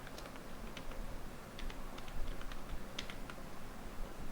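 Quick, uneven keystrokes tap on a computer keyboard while code is entered, a close continuous clatter with small bursts and pauses and no voices.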